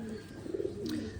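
A Surkha (red) Indian pigeon coos nearby, a short throaty burble rising and falling, with light background noise.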